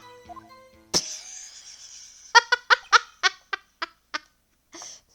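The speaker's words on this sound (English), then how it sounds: "It's a parrot!" A parrot squawking in the courtroom video game Phoenix Wright: Ace Attorney, one sharp cry followed by a rapid burst of clipped, chattering squawks that slow and trail off over a quiet background.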